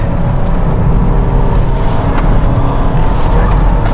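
A Volvo V60 T6 station wagon pulls hard along an open road, its engine drone and road roar steady and loud throughout with no talk over it.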